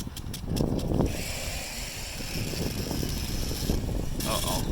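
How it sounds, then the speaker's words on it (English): A loose motor on an off-road ride clatters with rapid mechanical clicking and rattling, close and continuous, with a brief voice early on. "This got really clicky."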